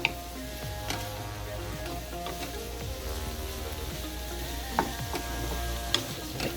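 A twisty pepper grinder is cranked by hand over eggs in a home kitchen, giving a steady near ratcheting crunch that runs throughout, with a few sharp clicks standing out.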